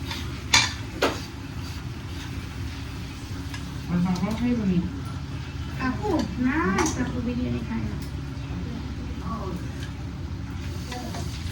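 A pan sizzles and crackles as potatoes fry, with stirring clatter from utensils and a voice speaking intermittently over the cooking.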